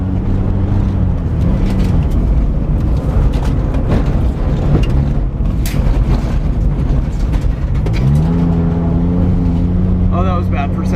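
A $500 Saturn L300 rally car brakes, turns and accelerates, its engine droning loudly and rising in pitch as it speeds up, with someone talking excitedly over the sound.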